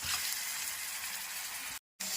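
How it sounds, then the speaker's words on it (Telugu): Ginger garlic paste sizzles in hot oil with browned onions, a continuous close crackling hiss that cuts out briefly near the end before resuming. "ఆనియన్స్ బ్రౌన్గా ఫ్రై అయిన తర్వాత దాంట్లో జింజర్ గార్లిక్ పేస్ట్ వేసుకొని బాగా ఫ్రై చేసుకోవాలి"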